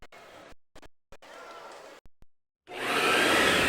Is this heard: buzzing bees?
no